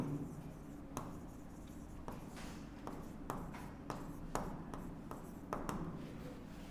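Marker or chalk strokes on a board during a geometry lesson, a run of short, faint scratching taps with soft rubbing between them, close by and with no voice.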